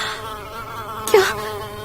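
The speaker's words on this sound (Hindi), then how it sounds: "मधुमक्खी बार बार आकर नताशा के कान के पास आकर गुनगुन की आवाज कर रही थी।" An insect drone, meant as a bee hovering beside someone's ear, holds steady and faint in a quiet room, swelling into a brief louder buzz near the end as it passes close.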